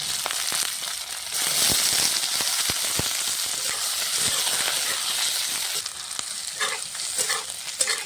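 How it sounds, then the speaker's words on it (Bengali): Cut raw potatoes frying in hot oil in a pan while being lightly stirred, a steady loud sizzle with scraping stir strokes throughout and no talking. "আলুটা হালকা করে নেড়ে চেড়ে ভেজে নিয়ে"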